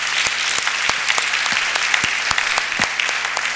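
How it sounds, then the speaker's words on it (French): A church congregation at a Sunday service claps for a visiting pastor, with loud, brisk, steady applause filling the room. "Nous acclamons pour sa présence"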